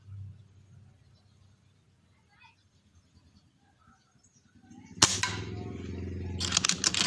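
A high-pressure BCP air rifle fires at a target: one sharp, loud crack follows a quiet stretch, then further sharp bursts ring out.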